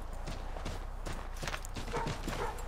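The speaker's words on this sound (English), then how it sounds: "glitched out horse" Horse hooves clip-clop in Assassin's Creed III, a quick irregular patter of hoofbeats under a low steady game background, moderately faint and with no talk.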